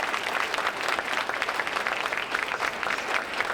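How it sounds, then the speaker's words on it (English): Audience applause fills an event hall at the USDA National Finance Center, a steady dense clapping that holds evenly throughout with no talking. "I'd like you folks to give them a big round of applause for their help"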